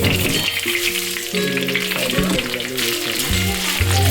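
Loud, close sizzling of dried red chillies frying in hot oil, crackling steadily, while someone talks over it briefly.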